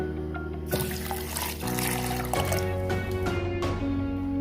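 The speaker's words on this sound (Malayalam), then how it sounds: "വെള്ളം ഒഴിച്ചു." Water is poured into a mix of ginger, cardamom, mint leaves, lemon juice and sugar for a lime drink, a steady splashing pour that changes pitch as the level rises, close and continuous with no talk.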